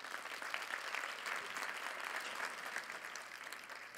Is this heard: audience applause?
yes